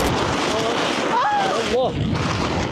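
Strong wind at a lakeside campsite buffets the microphone with a constant loud roar, and a brief whistling cry rises over it near the middle.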